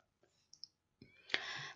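Computer mouse clicking during spreadsheet work: a few faint, isolated clicks, then a sharper, louder click followed by a short rustle, all close and quiet with no talking.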